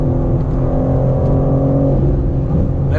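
A 2022 BMW M4 Competition G80 drives at night, its engine droning loud and steady with a rising pitch as it accelerates, heard from inside the car with no talking.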